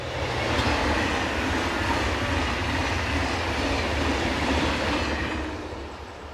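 A TGV unit, number 4718, working the Stuttgart to Paris service rumbles past at close range, a steady loud roar of wheels and rail noise that holds for several seconds before easing slightly at the end.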